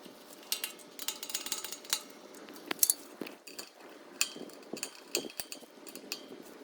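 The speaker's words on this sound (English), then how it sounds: "So now we'll just go ahead and tighten everything back up." Metal hardware on a gate latch being tightened back up, a close series of irregular metallic clinks, ticks and scrapes with short pauses between them, and no talk.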